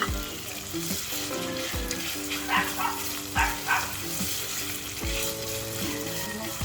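Sausage sizzles steadily in a hot pan while cooking for Valenciana, a dense continuous frying hiss with a few clacks of a utensil stirring and scraping, close and unbroken throughout.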